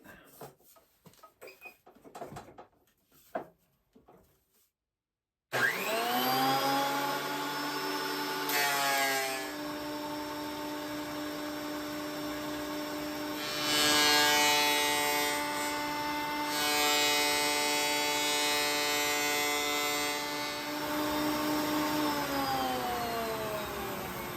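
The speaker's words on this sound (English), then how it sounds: "Let's get this planer going." Faint handling noises in a woodworking shop, then a wood planer with a vacuum hooked up starts with a loud, steady high whine and roar that runs on continuously, its pitch shifting slightly as it cuts.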